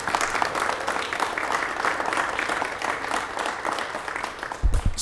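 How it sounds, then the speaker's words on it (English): Audience applause at a city celebration of immigrants and refugees, a dense continuous clapping from a crowd at moderate distance, steady throughout with a brief thump near the end. "If we can just do another round of applause."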